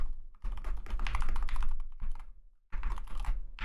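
Rapid clattering keystrokes on a new computer keyboard come in two dense bursts with a short pause between them, close and fairly loud with no voices.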